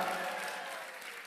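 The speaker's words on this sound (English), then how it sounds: "Ladies and gentlemen, your big round of applause for Militsa Gladnishka" Brief, fairly faint audience applause at a concert of classical and jazz pieces, greeting a soprano singer, an even wash of clapping that tapers slightly.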